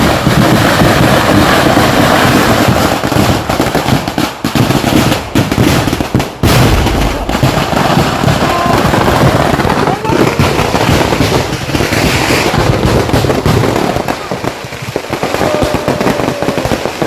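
Fireworks crackle and burst continuously at a temple festival in Kottayi, Palakkad, a dense, loud, sustained barrage of explosions with faint voices beneath.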